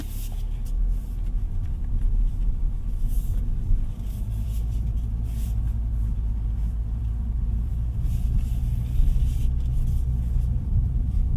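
Steady cabin rumble from a 2025 MINI Cooper JCW on the move: low, continuous engine and road drone with a few brief higher rattles on top, even in level and with no talking.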